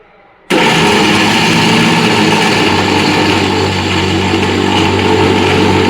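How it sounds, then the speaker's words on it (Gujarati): A kitchen mixer grinder grinds jaggery for churma laddu, starting abruptly after a brief quiet moment, then running loud and steady with a whining motor drone. "મિક્સરમાં દળી લઈશું આપણે."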